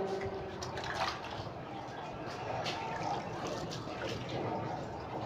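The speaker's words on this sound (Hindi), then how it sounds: "ये कपड़े के ऊपर से पानी डालेंगे" Water poured over a cloth laid on a body during a ritual washing, a steady splashing and trickling stream that runs continuously at moderate level.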